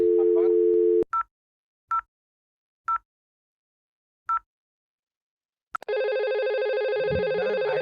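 Tones from an IP phone: a steady dial tone stops, then a few short beeps sound as digits are keyed, and a loud continuous buzzing tone takes over at the end.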